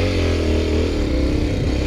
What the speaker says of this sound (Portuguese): Tem que fazer o motor dessa moto, tá um barulho, hein?